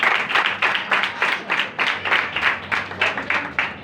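A church congregation claps in a quick, steady rhythm, a close run of even, evenly spaced hand claps with no talking over them.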